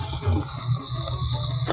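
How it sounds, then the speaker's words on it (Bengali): Chopped onion dropped into hot oil in a pan for a Bengali mashed-potato side, giving a steady, close, fairly loud sizzle with a faint stirring clink near the end. "এবার মা দেখো পেঁয়াজ কুচি দিয়ে দিচ্ছে ভাজার জন্য।"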